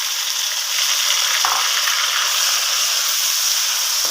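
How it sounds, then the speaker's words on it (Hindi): Chopped tomatoes frying in a garlic and ginger masala, a loud steady hissing sizzle close up, with a couple of faint stirring knocks and no talking. "तो मसाला जो है हमारा भुन रहा है।"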